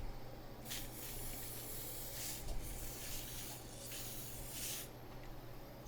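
Steam hisses out of a cooking pot of chicken pozole verde soup in four short, breathy bursts over a steady background rumble, fairly quiet and with no talking.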